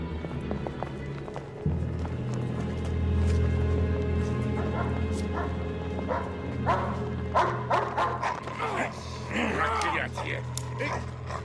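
Dog barking and whimpering indoors amid a commotion, with yips and whines breaking through people talking and moving around, fairly close and mixed into the busy background.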